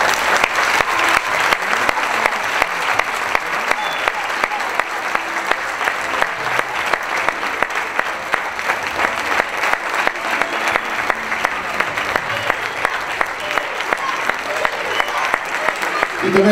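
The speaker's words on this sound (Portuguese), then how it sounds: "também para elas uma salva de palmas" Audience at a school Christmas party breaks into sustained applause, a dense wash of clapping that stays loud and steady from start to finish.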